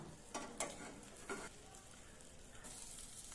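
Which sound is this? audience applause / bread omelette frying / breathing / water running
bread omelette frying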